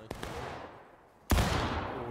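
Musket fire in a War of Rights multiplayer battle: a faint shot early, then one loud, close musket blast at about 1.3 seconds that rolls off into a long echoing tail.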